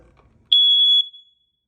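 A home smoke alarm's test button is held, giving a single piercing high-pitched electronic beep for about half a second, loud and clear against near silence.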